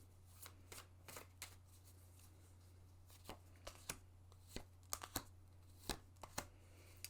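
Tarot cards being shuffled in quick, uneven bursts of crisp riffling and slapping, close and quiet over a steady low hum, with no talking.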